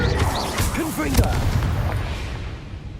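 A Confringo fire spell blast in the game Hogwarts Legacy, a loud burst with a sharp impact near the middle over dense, continuous battle noise, with a spoken voice mixed in.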